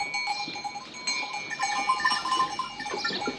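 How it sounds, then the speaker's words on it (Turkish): Several goats bleat in overlapping calls, close and fairly loud, outdoors at a village being released to roam, with faint bell-like clinks underneath and no talk. "Keçiler çok eğlenceli hayvanlar."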